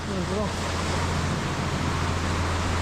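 Ocean waves on the open Pacific heard from aboard a boat, a steady broad wash of surf and wind rumble that fills the whole clip, with a low engine-like hum underneath and no talk.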